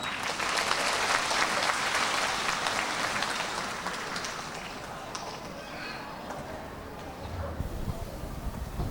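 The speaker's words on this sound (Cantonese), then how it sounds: "我哋俾熱烈掌聲佢哋啊！" An audience at a kindergarten graduation ceremony gives the children a long burst of applause, dense clapping that stays steady and fairly loud throughout, with an indistinct voice speaking briefly near the end.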